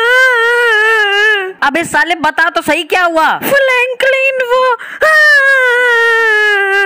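Loud, wailing cry from a character in the Indian Bikes Driving 3D video game, sustained at the start and returning near the end, with someone talking over a choppy middle stretch.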